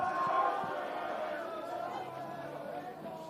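Crowd at a schoolboy rugby semi-final between Hamilton Boys' High and Rotorua Boys' cheering and chanting at a moderate distance beneath a commentator talking.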